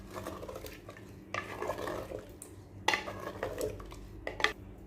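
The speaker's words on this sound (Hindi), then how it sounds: "अच्छी तरह इसको मिक्स कर दिए" A spoon stirs thick masala for dum chicken in a metal pot, with scraping strokes and soft clinks in irregular bursts, close by and fairly quiet.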